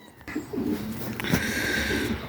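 Racing pigeons coo softly and repeatedly nearby, low rounded calls over faint background noise.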